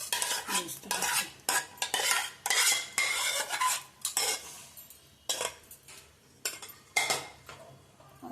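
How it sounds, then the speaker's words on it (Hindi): A metal spoon stirs khichda, a mix of lentils and spices, in a pot, making repeated scraping clanks and knocks in an uneven rhythm, close and fairly loud, with no talking. "और यहाँ पे इन सब चीज़ों को मैं बहुत अच्छे से मिक्स कर रही हूँ"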